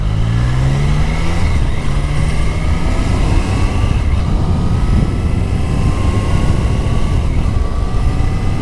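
A Triumph Street Triple RS motorcycle engine revs and accelerates continuously, its pitch climbing through gear changes, heard close up with heavy rumbling wind noise.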